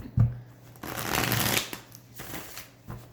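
Tarot cards being shuffled during a reading, a dense riffling burst that swells and rolls for about a second, then softer, quieter shuffles follow, close up and with no talking.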